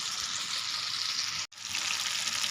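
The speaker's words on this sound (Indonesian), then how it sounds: "Cuman daun pisangnya nggak ada, jadi ya udahlah aku goreng aja si tahunya." Tofu fries in a pan during simple home cooking, giving a steady, close hissing sizzle that runs throughout, broken only by a very brief silent gap midway.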